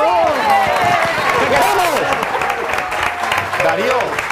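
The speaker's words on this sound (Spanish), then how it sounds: "¡Un aplauso!" A TV studio audience applauds loudly and steadily, with voices and cheering mixed into the dense clapping throughout.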